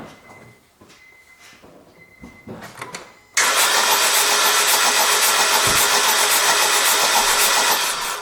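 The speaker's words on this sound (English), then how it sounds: "next I go to start my car." Car engine with a suspected bad ignition coil, first quiet beeps and small clicks, then an abrupt start that settles straight into a loud, steady idle roar held close until the end.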